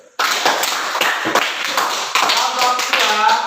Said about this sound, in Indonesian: Kasih tepuk tangan untuk kelompok 1.